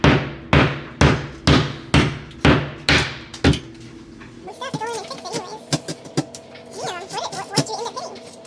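A hammer bashing through a drywall wall during a washer drain pipe leak repair: eight loud, evenly spaced blows close up, then scraping and rustling debris as people talk and laugh.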